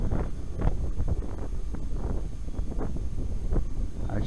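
Wind buffeting the microphone outdoors during a throttled-down run, a continuous low rumbling roar with uneven gusty pulses throughout, loud and close, with no voices.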